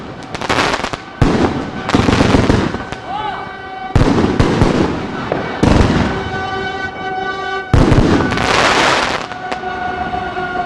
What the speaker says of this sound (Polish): Piękna petarda, ale 300.